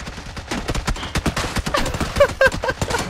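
Rapid, continuous automatic gunfire in PUBG while rushing into a room, loud, close bursts of shots in quick succession with little pause, punctuated by a few brighter metallic pings.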